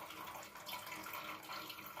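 Water runs from a new reverse-osmosis filter into a storage tank as a steady, faint, close hiss of flow with no break.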